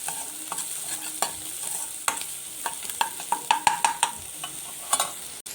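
Chopped ginger and garlic with ginger garlic paste frying in a pan, a steady close sizzle with scattered sharp clinks and scrapes of a utensil stirring through it.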